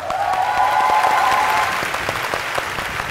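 A crowd applauds singers after a duet of a Vietnamese folk song performed by blind performers, a loud, dense burst of clapping with a sustained tone ringing over the first half and then fading beneath the clapping.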